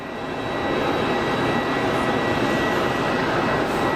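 A KLM Embraer 195 jet from Amsterdam approaches Geneva Airport on final to land, its engines a loud, steady broadband roar that swells slightly in the first half second and then holds constant, with no voices.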